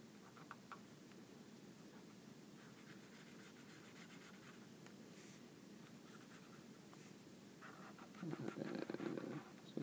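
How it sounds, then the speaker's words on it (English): A marker writing elevation numbers onto contour lines of a map gives faint, scratchy strokes in short bursts over a quiet room hiss, with a louder rustle near the end. "It's going to take a second because my marker is not cooperating too greatly."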